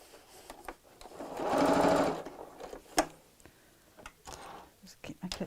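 A sewing machine stitching a tote bag runs in one short burst of rapid, steady whirring, with quiet handling clicks before and after and a voice talking softly nearby.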